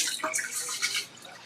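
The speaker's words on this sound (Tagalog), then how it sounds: "Tanggalin natin yung tubig." Hot water is drained off boiled chicken feet in a kitchen, pouring and splashing in short bursts close by and then tapering to a lighter trickle.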